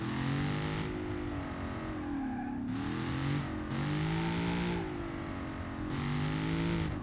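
A deep Ford Mustang Coyote V8 engine in the video game BeamNG revs in long repeated swells, rising and falling in pitch with brief shifts between pulls, loud and continuous.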